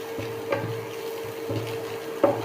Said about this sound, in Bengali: এখানে আমি সমস্ত মশলা দিয়ে এখন মশলাটা হালকা কষিয়ে নেব